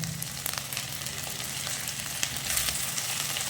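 Curry leaves sizzle and crackle in hot oil for lemon rice, a steady close frying hiss with scattered pops, heard alone without talk.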